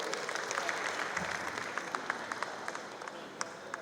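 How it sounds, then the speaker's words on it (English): An audience claps in a sustained round of applause at a community founder's address, moderately loud and even, with individual claps standing out near the end. "Please give a good round of applause."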